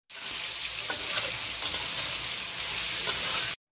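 Cabbage curry cooking in a pan, a steady, fairly loud sizzle and frying hiss with occasional stirring clicks, lasting a few seconds before stopping abruptly.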